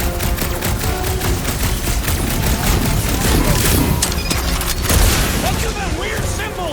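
Rapid automatic gunfire bursts and booms from the Marvel's Guardians of the Galaxy video game, loud and sustained, with in-game characters shouting over the shooting.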